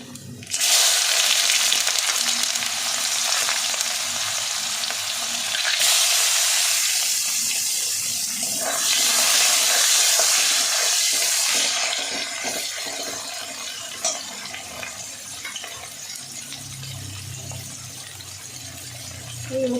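Dried chilies, black cumin and onion hitting hot oil in a pan give a loud, steady sizzle with a bright hiss throughout, easing somewhat toward the end.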